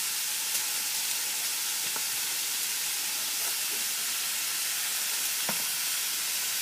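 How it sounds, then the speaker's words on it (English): Steady, close sizzling and hissing of ranch burgers frying in a hot pan, with a few faint clicks and taps. "you can hear it sizzling"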